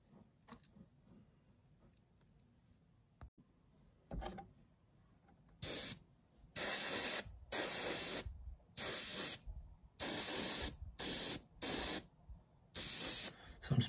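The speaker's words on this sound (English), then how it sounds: "Okay, so I'll start off with spraying this piece here." Airbrush spraying paint onto a miniature at 40 to 50 psi, a series of short, sharp hissing bursts separated by brief silences, starting after a quiet stretch with faint handling noises.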